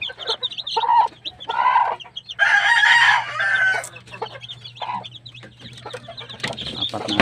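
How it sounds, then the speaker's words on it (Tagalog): A black hen and other chickens cluck in short, close, loud bursts at a backyard farm, one louder squawking stretch in the middle, with a faint steady hum underneath. "Hindi ko alam guys bakit nagkaroon ako ng itim na inahin"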